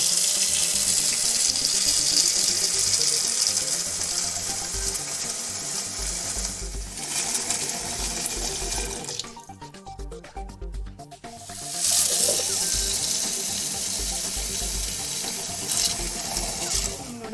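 Running tap water splashes steadily into a sink as pumpkin pieces are washed for a Kerala-style erissery curry, loud and continuous with a brief lull midway before the flow resumes.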